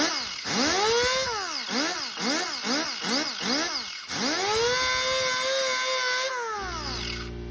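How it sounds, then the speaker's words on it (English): A flapper disc on an abrasive wheel grinds a bike frame's stripped shock mount in a rhythmic series of loud, close, whining passes that rise and fall in pitch, then one long sustained grind before spinning down. "once we finish with the abrasive wheel or the flapper disc"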